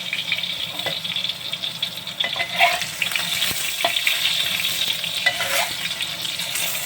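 Steady sizzling of eggplant frying in oil in a pan, continuous crackle with occasional scrapes and pops, close by, no talking.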